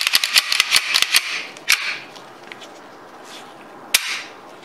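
A Beretta 92FS pistol fitted with a steel parts kit gives a rapid run of metallic clicks, then two sharp, close snaps as the decocker drops the hammer.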